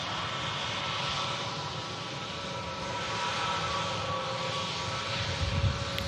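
A Lufthansa CityLine Airbus A320neo arriving from Munich at Manchester Airport gives off a steady, broad jet engine roar that holds at a fairly loud level throughout, heard outdoors at a distance with no voices.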